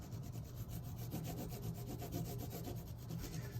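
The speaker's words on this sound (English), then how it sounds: "It makes a funny noise when you're doing this texture rubbing." A crayon rubbed steadily over paper laid on a textured plate, giving a continuous scratchy, rhythmic rasping of quick back-and-forth strokes, fairly close and alone with no talking.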